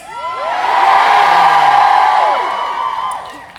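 An audience at the AAC 2018 keynote erupts in screams, whoops and cheers, swelling quickly, holding loud, then fading over a few seconds.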